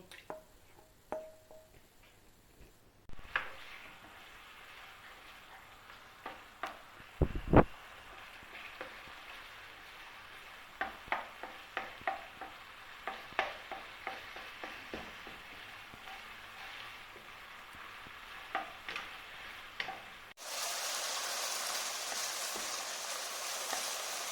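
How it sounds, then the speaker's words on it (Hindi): Minced chicken sizzles in three to four spoonfuls of oil in a pan, a steady soft crackle with scattered sharper pops and stirring clicks, ending in a louder hiss near the close. "3-4 चम्मच ऑयल डाल दिए हैं इसमें और हम चिकन का कीमा डालने लगे।"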